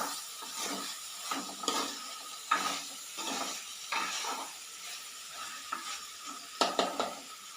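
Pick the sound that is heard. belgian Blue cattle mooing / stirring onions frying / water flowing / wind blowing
stirring onions frying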